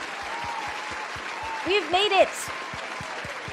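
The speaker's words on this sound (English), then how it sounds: "I have clapping sounds for that." A clapping sound effect of steady, evenly spaced claps plays throughout, while a voice speaks and cheers briefly over it.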